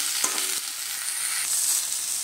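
Cabbage fries in a pan with a constant bright sizzle and faint stirring clatter, close and fairly loud, with no voices.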